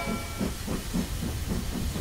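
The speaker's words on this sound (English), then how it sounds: "Mr. Train is almost here." A cartoon train hisses steam in a steady, loud rush, with rhythmic chuffing pulses that repeat about every quarter second.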